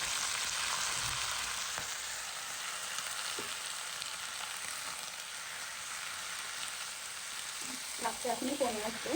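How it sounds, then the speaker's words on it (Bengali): Spinach fries in a pan with tempered dal, giving a steady, close sizzle throughout, with a few faint clinks of stirring and brief indistinct vocal sounds near the end. "ডাল সম্বারাটা দিয়ে আমি পালং শাকটা দিয়ে দেবো, একটু ভাজা ভাজা হোক।"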